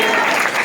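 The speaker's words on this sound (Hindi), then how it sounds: "आए खुदा के जलाल के लिए जोरदार तालियां" Loud applause fills a church congregation, a dense, continuous wash of clapping from a crowd, steady and close throughout the short burst.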